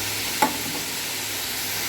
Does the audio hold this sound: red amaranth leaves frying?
yes